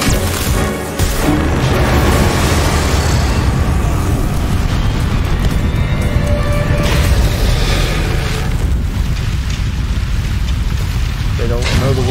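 Incendio fire spell explosions in Hogwarts Legacy, a loud continuous roaring blast with crashing bursts filling the whole stretch, a voice talking over the top.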